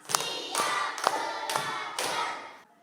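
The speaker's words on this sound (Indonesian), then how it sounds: "Tepuk 1, tepuk 2, tepuk 3, tepuk 4, tepuk 5." A classroom group claps through a counting clap game led by a teacher in an Indonesian lesson on rights and duties: five separate bursts of clapping, each a short cluster of hits, evenly spaced and fairly close.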